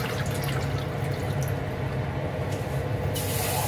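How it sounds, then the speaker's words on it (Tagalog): Water pours steadily into a small saucepan for miso soup, a continuous close splashing stream with no talk. "Ganyan lang karaming tubig."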